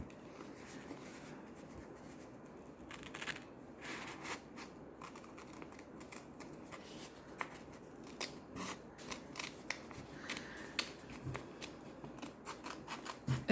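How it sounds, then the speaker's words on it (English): Scissors snip through planner paper and a sticker in a run of crisp, close cuts with small rustles, fairly quiet and irregular in rhythm, no talking. "I'm going to cut right through the paper, because I think that'll help the sticker better."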